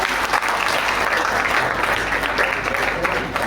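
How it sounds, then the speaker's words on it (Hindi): An audience at a Hindi poetry recital (kavi sammelan) applauds, a dense, steady wash of many hands clapping that fills the hall and holds at full strength throughout. "जब मेरी चॉइस आपको अच्छी लगी हो तो ताली बजा के बताइए"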